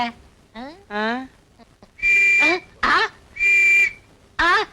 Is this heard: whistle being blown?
yes